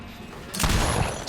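Deathslinger's gun firing in Dead by Daylight, a single sharp close shot bursting out after a quiet lead-in, followed by a brief ringing tail and another short hit at the end.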